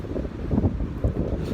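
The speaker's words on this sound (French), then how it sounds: "il y a un vent terrible aujourd'hui" Strong outdoor wind buffets the microphone in a steady low roar with gusting surges, and no other sounds stand out.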